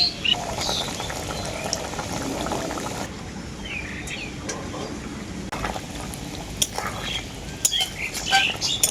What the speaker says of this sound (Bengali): ঝোলটা আমি আবারও খুব ভালো করে ফুটিয়ে নেব